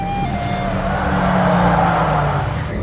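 A car driven around in circles in a Hindi film scene, its engine drone steady and fairly loud throughout with a hint of tire noise, no voices over it.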